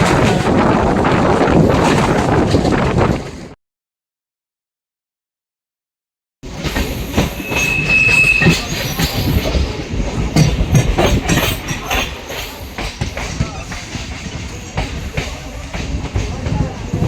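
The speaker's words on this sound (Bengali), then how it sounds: "ট্রেন চলে এসছে আমাদের" A train at a suburban station on a run from Barrackpore toward Galiff Street in Kolkata, with steady rail rumble and clatter in the first seconds, a silent gap, then a renewed roar with wind noise and voices.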